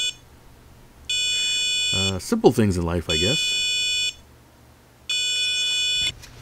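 An Elecrow ESP32 3.5-inch SPI touchscreen board's buzzer plays steady, shrill electronic tones in two separate bursts of about three and one seconds, with a person speaking briefly between them.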